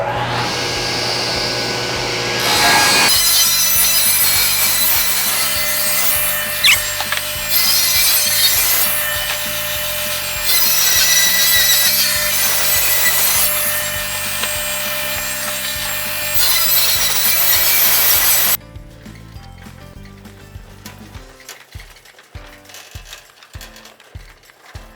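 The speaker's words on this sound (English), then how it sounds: "Here I am at the bandsaw, completing the cut." A bandsaw cuts through a live-edge wood slab, giving a loud, steady rasping whine for most of the stretch before the blade clears and quieter workshop knocks and taps follow.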